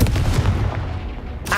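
A Confringo explosive spell blasts in Hogwarts Legacy, a single loud, heavy boom with a short rumbling decay, followed by a sharp crack at the end.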